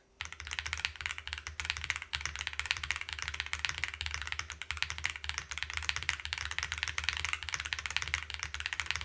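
Steady, fast clacking of keys on a mechanical keyboard with Ice Kachang tactile switches, continuous and close, with no voices.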